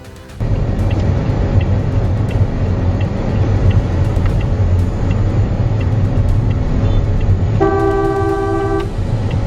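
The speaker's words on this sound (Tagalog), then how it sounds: "Simulan natin ang video sa pagliko ng isang motor na hindi lumilingon at binusinahan siya ng sasakyan." A car horn gives a single sustained toot near the end, cutting over steady nearby street traffic as a motorcycle turns without looking. No one speaks.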